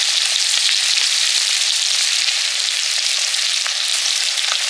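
Chopped onion, garlic and Bengali five-spice (panch phoron) fry in hot oil, making a loud, continuous, crackling sizzle close up, with no talking.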